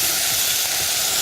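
Food sizzles steadily in a hot pan, a dense crackling hiss with a few soft stirring scrapes.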